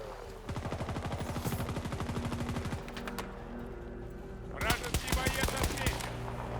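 Rapid automatic gunfire in a video game shootout, bursts of fast repeating shots, a pause, then more scattered shots, with a voice talking over parts of the action.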